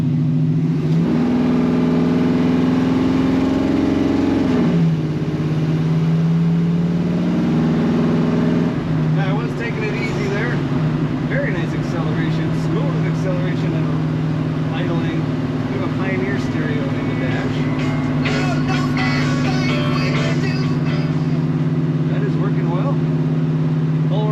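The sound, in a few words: 1969 Chevrolet C10 pickup truck exhaust rumble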